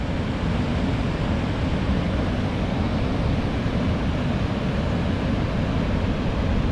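A steady, unbroken rush of river water runs through the Elan Valley in Wales, fairly close and even in level for the whole stretch, with nobody talking.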